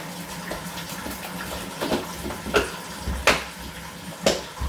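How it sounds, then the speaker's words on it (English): Hot water runs steadily from a tap with a soft gushing wash, punctuated by a few brief splashy bursts, close by. "Turn on the hot water."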